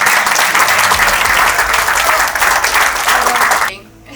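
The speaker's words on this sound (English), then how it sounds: "we can give a round of applause to Auntie Sophie" Guests at a benefit dinner give loud, sustained applause for Auntie Sophie, a thick roar of clapping with crowd murmur underneath that cuts off abruptly near the end.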